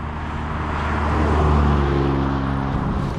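Alfa Romeo Stelvio Quadrifoglio (2025) with its V6 engine cruising, a steady low engine drone with road and tyre noise, continuous and moderately loud, swelling slightly mid-way, with no talking.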